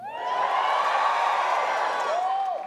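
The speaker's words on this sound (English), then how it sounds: "give me a cheer if you like the old one" Comedy festival audience at a New Zealand gala erupts in a steady wave of cheering and whoops, loud and sustained, with a whistle rising near the end before the noise tapers.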